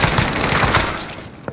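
Call of Duty Modern Warfare gunfight: a loud, dense wash of rapid automatic gunfire and blasts fills the moment, tapering slightly before a final sharp crack.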